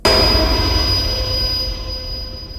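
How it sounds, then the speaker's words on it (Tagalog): A train rumbles heavily along railway tracks, a loud, close, sustained metallic roar with a high squealing ring from the wheels, beginning abruptly and slowly easing off without any voices. "biglang narinig nila ang malakas na pag-urong ng mga riles"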